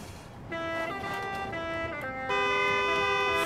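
Citroën 2CV horn in Forza Horizon 4, sounding as a steady harmonic toot that starts, shifts pitch briefly, then returns louder and sustained, close and fairly loud with no talking.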